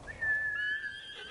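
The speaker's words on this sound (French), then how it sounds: "Il y a notre cheval." A horse whinnies once in Ghost of Tsushima in a long, high, wavering call that rises and then trails off, heard over soft low background noise.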